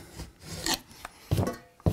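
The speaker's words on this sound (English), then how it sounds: "So I'm just going to take my knife like this and just trim back." A knife scrapes and rasps across a dried textured wall patch, trimming back raised spots in a few short, close strokes separated by brief pauses.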